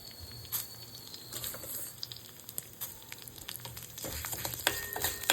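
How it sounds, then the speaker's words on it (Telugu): Urad dal and fenugreek seeds roasting in a pan over a low flame: a soft, faint crackle and sizzle with scattered light stirring clicks, close but quiet. "ఇప్పుడు మెంతులు కూడా ఇలాగే లో ఫ్లేమ్లో పెట్టుకుని ఎర్రగా కమ్మటి వాసన వచ్చే వరకు వేయించుకోవాలి"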